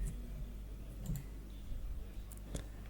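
A few sharp, light mouse clicks sound close by, spaced irregularly against a faint steady hum.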